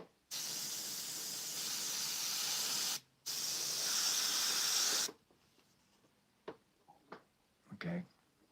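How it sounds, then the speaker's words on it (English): Two steady bursts of hissing paint spray from an airbrush painting clouds, close and loud, separated by a brief pause, followed by faint clicks and handling noises. "Don't spray too hard, and you can get all kinds of effects."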